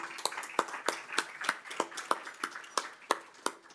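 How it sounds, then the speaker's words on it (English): Scattered, sparse clapping in the NSW Parliament as Senator Payman leaves, distinct individual claps at a roughly regular rhythm, fairly quiet and close, with no talk over them. "I wonder if we could just give a round of applause to Senator Payman as she leaves."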